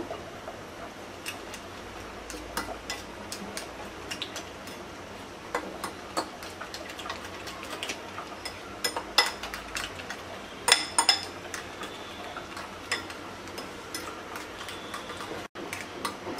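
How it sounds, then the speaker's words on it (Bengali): Spoon clinking and scraping against a bowl while Moglai paratha filling is stirred together with garam masala, chaat masala and salt, light irregular taps repeating steadily at close range with no talking. "দিয়ে দিচ্ছি স্বাদ মতো লবণ, এবার ভালো করে মিশিয়ে নেব।"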